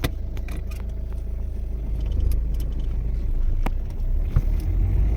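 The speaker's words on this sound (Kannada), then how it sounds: "ನೋಡಿ ಗಾಡಿ ಹಿಂಗೆ ಒಂದೇ ಸಲ ಜರ್ಕಿಲ್ಲ ಏನಿಲ್ಲ ಹಂಗೆ ನುಗ್ಗುತ್ತೆ ಗಾಡಿ" Inside a diesel car pulling away smoothly on a test drive, a low steady engine and road rumble with faint interior rattles and a brief knock, no voices.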